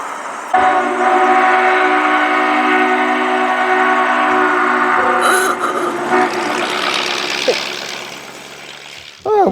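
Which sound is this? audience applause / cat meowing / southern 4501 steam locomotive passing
southern 4501 steam locomotive passing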